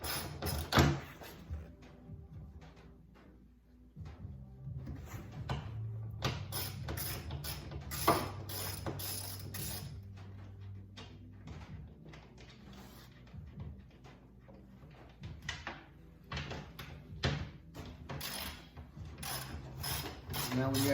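Ratchet fitted with a deep socket backing out screws on the drive case of a Kawasaki KRX 1000, including those low by the drain plug: repeated close clicking and metallic ratcheting bursts with clunks of parts, no talk.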